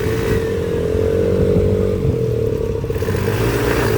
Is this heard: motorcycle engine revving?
yes